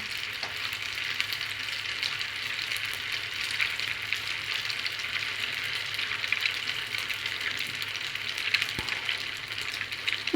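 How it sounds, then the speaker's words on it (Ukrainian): Potato pancakes (deruny) fry steadily in hot oil in a pan, a continuous close bright sizzle with faint crackles running for the whole stretch, no voices. "І вони будуть гарно жаритися"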